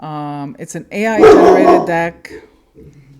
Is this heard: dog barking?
yes